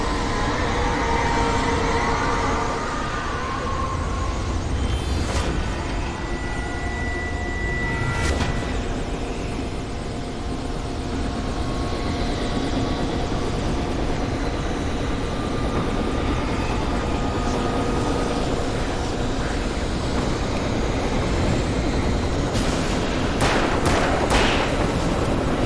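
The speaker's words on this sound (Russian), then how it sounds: "Вертолет разогревается." Helicopter warming up in the video game Alan Wake, a steady loud rotor and engine drone that runs throughout, with a few brief sharp clanks near the middle and the end.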